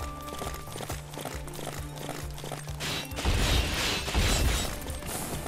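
Horse hooves pounding in the Samurai Warriors 5 Battle of Okehazama, a rough steady galloping rhythm buried in a loud, busy battle mix that swells louder in the second half.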